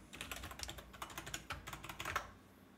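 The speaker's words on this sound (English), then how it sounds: "We're gonna type in our password." Password being typed on a computer keyboard, a quick run of soft close key clicks in an uneven rhythm, quiet and alone.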